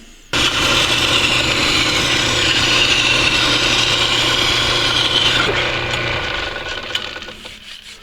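A hand file rasps steadily across a metal part of a Tulsa winch being refurbished: one continuous close scraping stroke for about six seconds, then fading to quiet.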